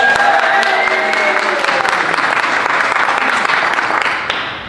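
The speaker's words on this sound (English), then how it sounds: "only clap for the person you want to win, do not clap for both" At a women-in-business happy hour at a distillery, a crowd claps and cheers loudly to vote for a contestant, sustained applause with whoops that fades near the end.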